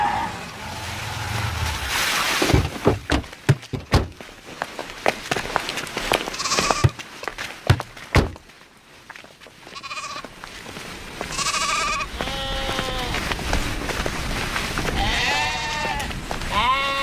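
Goats bleat repeatedly in a rural setting, with several wavering cries overlapping through the second half, following a stretch of clattering movement and brief voices.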